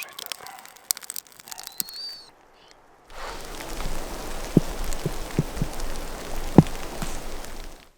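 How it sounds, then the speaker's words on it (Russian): Rain begins falling in a damp winter forest beside a crackling campfire, a steady broadband patter rising suddenly after a quieter start with faint birdsong, with a few sharp drips or snaps standing out. "И начался дождь."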